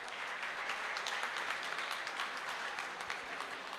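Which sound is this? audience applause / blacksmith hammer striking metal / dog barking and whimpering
audience applause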